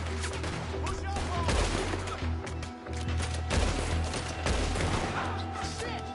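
Rifle shots from the video game Red Dead Redemption 2, heard as repeated sharp cracks over a steady background of game ambience and low rumble, fairly loud throughout.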